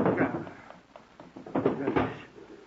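A drawer slides open as a sound effect in an old-time radio comedy, a short muffled wooden scrape and rattle of a couple of seconds, close and fairly loud.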